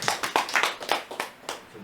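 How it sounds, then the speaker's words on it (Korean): A small audience at a literary talk concert claps for a poet, with a few loose, distinct hand claps close by in an uneven rhythm that never builds into full applause. "박수 한번."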